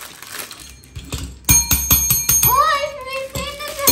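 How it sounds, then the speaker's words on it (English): A small bicycle-style bell from a children's card game toy is struck repeatedly, giving a rapid series of bright close dings followed by a longer ringing tone, with a voice and handling noises around it. "okay. A bell."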